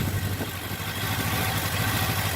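A black 1994 Suzuki Katana 600 (GSX600FR), an air-cooled motorcycle, idles steadily while warming up, its low even engine rumble and light mechanical clatter continuing close by without a break.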